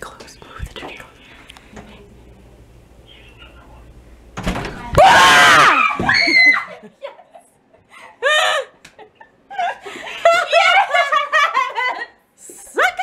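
A woman screams in fright after being startled in her room: a loud, shrill burst around the middle, then laughing and giggling voices that continue to the end, following a quiet whispered stretch at the start.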